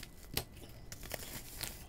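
Scissors cut open a mailed package, giving a few sharp snips and crinkling, tearing rustles of packaging, close by and fairly quiet with no talk.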